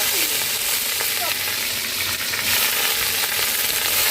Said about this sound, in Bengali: নুন হলুদ দিয়ে এই কপিটা আমি ভেজে নিয়েছি